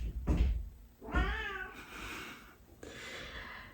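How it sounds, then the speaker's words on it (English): A domestic cat meows several times, clear and fairly close, with drawn-out, wavering calls separated by short pauses and no talking. "Sorry, that's the cat."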